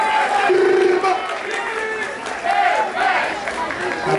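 A crowd at a rap battle roars and cheers in waves, with shouting voices rising and falling across the whole stretch, loud and close.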